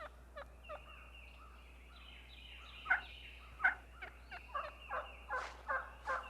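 Wild turkeys give assembly calls at daybreak in the woods, a series of faint, distant yelps and gobbling calls repeating over steady low background hum.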